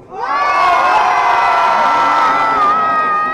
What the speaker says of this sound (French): On va faire maximum de bruit.